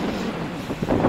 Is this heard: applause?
no